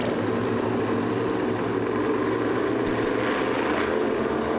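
Field of 350 supermodified race cars on an oval speedway, a steady dense engine roar heard from a distance, continuous and unbroken with no voices.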